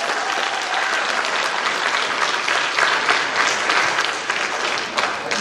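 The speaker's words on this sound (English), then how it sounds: "If you would clap it up for all of them again." A concert audience at a high school band and choir holiday concert applauds warmly, a dense, continuous clapping that holds steady and fairly loud throughout, with a faint murmur of crowd noise underneath.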